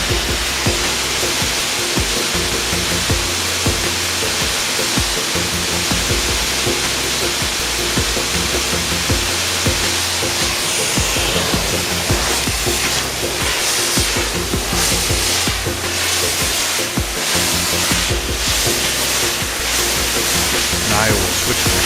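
Brushless truck wash machine spraying rinse water across a truck, a steady loud hiss of spray that runs unbroken and close the whole time, with no talking.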